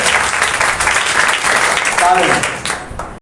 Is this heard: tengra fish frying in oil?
no